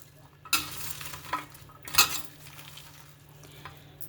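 Chopped onions being mixed firmly by hand for onion pakodi, giving soft wet squelching and rustling with a few sharper clinks, moderately close and with no talking.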